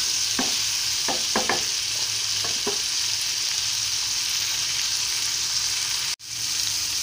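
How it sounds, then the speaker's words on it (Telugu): Bitter gourd and onions fry in a pan for a curry with a constant sizzle, a few spatula scrapes early on and one sharp knock near the end. "చూడండి, కాకరకాయలు ఆనియన్స్ వేగుతూ ఉన్నాయి."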